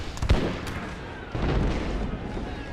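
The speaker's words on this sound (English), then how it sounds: "Even though artillery is just taking the crap out of these guys." Artillery fire hammering infantry lines in the Napoleon: Total War American Civil War mod, Battle of Round Top: dense booming impacts and crackling battle noise. One strong blast comes early, and a sustained rumble swells midway.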